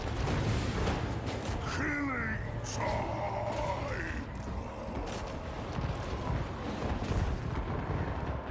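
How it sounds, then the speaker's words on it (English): Lead belcher artillery from Total War Warhammer III booming in a dense battle mix, repeated heavy blasts and rumbling under a constant wash of combat noise, with someone talking over it. "Our lead belchers have started firing"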